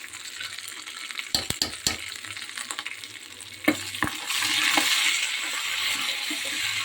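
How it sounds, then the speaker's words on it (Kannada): Spices for tempering, curry leaves and dried red chillies, crackle and pop as they hit hot oil, a few sharp bursts before settling into a loud, steady sizzle. "ಕೊನೆಯಲ್ಲಿ ಒಂದು ಒಗ್ಗರಣೆ ಕೊಡೋದು"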